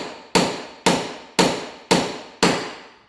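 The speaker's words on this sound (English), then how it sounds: "the only logical way of doing it is by hitting it with a hammer" Five loud metallic hammer blows strike a ball joint on an Alfa Romeo Brera at an even pace, each ringing briefly before the next strike.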